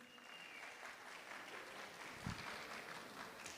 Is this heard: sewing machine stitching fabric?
no